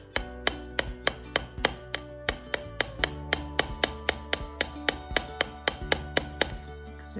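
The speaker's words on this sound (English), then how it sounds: "get through the hammering." Hammering of wire for beaded French hook earrings: a steady run of sharp metallic taps, about three to four per second, close and clear with ringing overtones and no talk.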